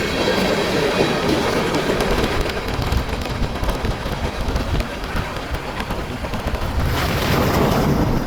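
A CSX freight train of hopper cars, including a BNSF hopper, rolls past up close on the Grand Rapids Subdivision, a steady broadband rumble with rattling wheel clatter that swells slightly toward the end.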